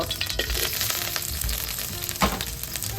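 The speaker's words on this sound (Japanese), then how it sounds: "ニンニクを入れます。" Steady frying sizzle of garlic in a hot pan over high heat with occasional scraping and stirring clatter, close and fairly loud.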